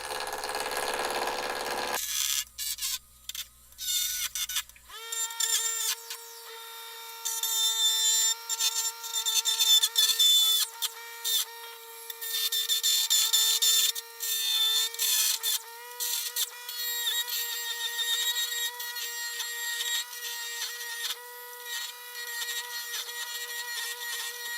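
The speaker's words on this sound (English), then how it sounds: "setting it up on the lathe, and I'm going to do a rough turning and bring it down to size" A wood lathe rough-turns a shop-made screwdriver handle with a continuous, close scraping and rasping of the tool against the spinning stock. It starts with a few short bursts, then runs steadily with a sustained hum underneath.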